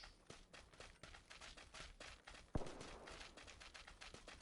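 Distant gunfire in the PUBG battle-royale game on PS4, a rapid string of faint cracking shots and bursts with one sharper louder report midway, heard against low game ambience.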